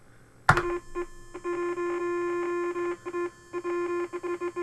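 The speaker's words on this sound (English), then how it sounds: "Let me try it with a beep command." A modded DKTronics ZX Spectrum outputs computer beeps through a TV: a loud click, then a series of steady electronic tones in uneven bursts, some long and some short, with slight crackle.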